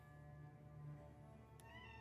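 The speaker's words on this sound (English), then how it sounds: "Why are you meowing?" A house cat meows at a modest level beneath a steady low hum of game audio, with no talking in the moment.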